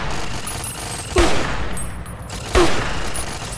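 Turret gunfire in Fallout: New Vegas, two distinct loud blasts about a second and a half apart over steady background game noise, no talking.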